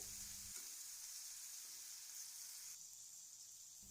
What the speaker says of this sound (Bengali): বরবটিটা এদিকে ভাজা হতে থাক